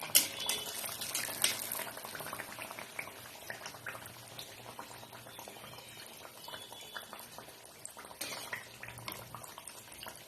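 Malpua pitha sizzle while deep-frying in oil on medium heat, a steady close bubbling crackle with small pops and no talk.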